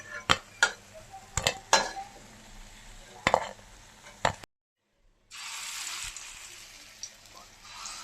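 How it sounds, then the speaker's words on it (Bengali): Fried lentil fritters made with split peas are lifted from a frying pan: sharp utensil clinks and scrapes up close, a brief silence, then a steady hiss of hot oil frying. "বড়াটা ভাজা হয়ে গেছে, এখন তুলে নিচ্ছি"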